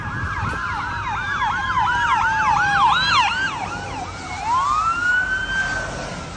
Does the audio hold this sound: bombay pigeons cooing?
no